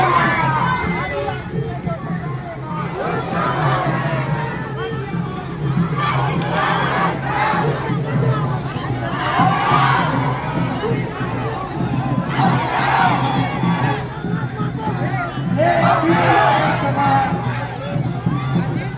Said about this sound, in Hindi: आदिवासी समाज का भीड़ पहले देखिए